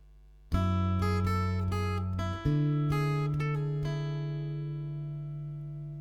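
A melody played on acoustic guitar at a moderate pace, with single plucked notes ringing out clearly and decaying slowly. No voices.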